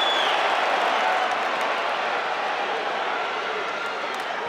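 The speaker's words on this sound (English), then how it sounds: "You hear other cheering going on" A large Wisconsin crowd at a high school wrestling tournament produces a steady, broad roar of cheering and clapping that holds at an even level throughout.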